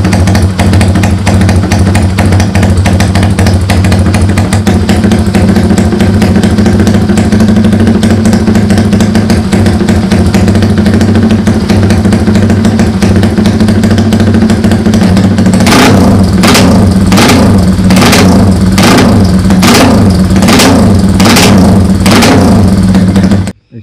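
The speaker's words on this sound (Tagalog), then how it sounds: "Painitin muna natin, paandarin muna natin saglit bago tayo umalis para marinig nyo rin kung anong tunog na itong J-Hope part" Yamaha Sniper 200cc motorcycle with a Tobaki racing engine spec and Jhoe part exhaust idles loudly and steadily up close, then near the end bursts into a series of sharp, rhythmic throttle blips.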